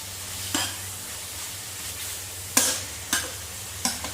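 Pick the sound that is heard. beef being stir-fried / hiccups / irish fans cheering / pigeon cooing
beef being stir-fried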